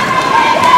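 Crowd cheering and shouting at a 100 m freestyle swimming race, a loud, dense wash of voices close by.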